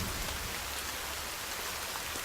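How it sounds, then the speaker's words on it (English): Steady rain falls in The Forest, the survival video game, a continuous even hiss of drops on the ground and foliage with no voices or other sounds. "Right, it's raining."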